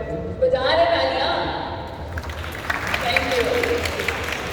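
Clapping from an audience at a women's awards ceremony in a hall swells and continues as a steady patter, while a voice talks over it, with music or tonal sounds present early on.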